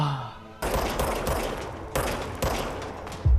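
Gunfire in the action video game Control: several sharp, loud shots fire in quick bursts, split by brief gaps and closing with a heavy low thump. No one talks over it.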